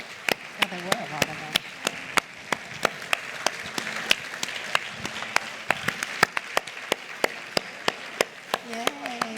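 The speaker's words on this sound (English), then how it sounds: "Let's give them a round of applause." Sustained applause from a forum audience, dense clapping throughout, with a few voices calling out over it.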